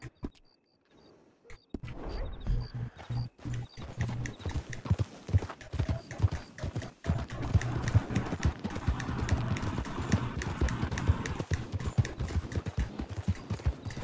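A horse in the Western video game Red Dead Online trots along with steady, rhythmic clip-clopping hooves after a brief quiet start, the hoofbeats close and continuous with occasional louder thuds.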